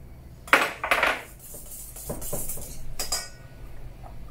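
Melted butter stirred into an egg mixture in a bowl for an almond cake, a handful of close clinks and scrapes of a utensil against the bowl, quiet and without talk.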